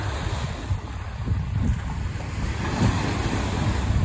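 Steady rush of surf and wind on a beach as a boat is reversed into the water for launch, with wind buffeting the microphone; no voices.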